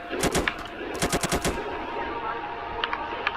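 Gunfire in a Roblox bodycam-style shooter game, with a rapid automatic burst followed by a few scattered shots, loud and close, with no talk.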